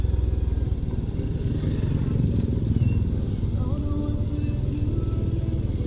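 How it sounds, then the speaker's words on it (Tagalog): A Yamaha MT-series big bike, either an MT-03 or an MT-15, rides alongside, its engine a steady, loud, close rumble that holds under continuous road and wind noise. "Ganda ng big bike niya. Hindi ko alam kung MT-03 yun o MT-15."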